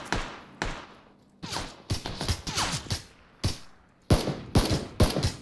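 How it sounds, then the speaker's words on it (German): Gunfire in PUBG comes as sharp shots and rapid bursts, some single cracks and some quick strings of fire, fairly loud and close with brief gaps between volleys. "der schießt auf mich"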